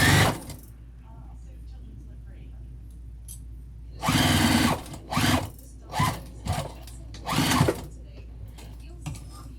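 Sewing machine stitching the pocket of a vinyl-overlay tote bag with purple thread, several short motor bursts of rapid whirring separated by pauses, close, with a voice talking at the start.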